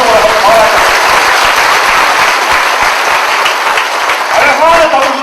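An audience at a Tamil literary talk gives loud, sustained clapping in praise of children and their teachers. The dense, crackling applause runs throughout, with a voice heard faintly at the start and end.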